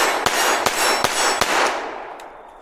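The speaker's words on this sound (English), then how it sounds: "So let's go ahead and shoot the gun. The first pull is going to be double action." A Mauser M20 DS pistol fires its first double-action shot, followed by several more sharp reports in quick succession, each loud and close with ringing echoes that trail off into silence.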